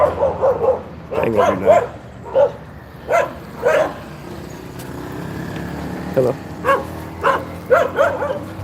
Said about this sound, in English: it's a whole bunch of wild dogs out here